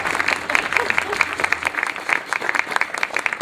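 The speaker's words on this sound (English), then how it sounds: "So let's have a round of applause." An audience at a community arts fundraising event claps in a dense, sustained burst of applause that stays even and lively throughout.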